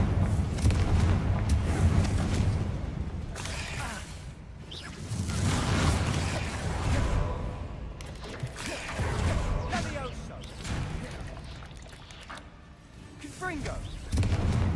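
Repeated Confringo blasting spell explosions in Hogwarts Legacy, several loud booming bursts a few seconds apart over continuous game noise, with a player speaking between them.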